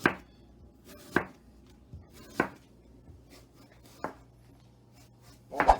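A knife slices thinly through apple on a cutting board, making about six crisp, separate cuts at an uneven pace, close and fairly quiet against a quiet room.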